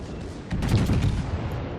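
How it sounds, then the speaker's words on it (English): Bismarck battleship main guns firing in World of Warships, a dense rumbling salvo of overlapping booms swelling about midway and rolling on to the end, loud and close. "Shots out on the enemy turrets."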